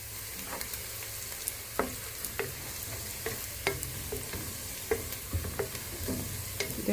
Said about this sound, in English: I have to cook the onions until they're golden brown